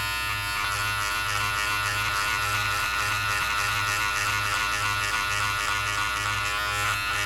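Electric hair clippers fitted with a number one guard run with a steady, loud, close buzz and hum throughout, cutting hair without a break.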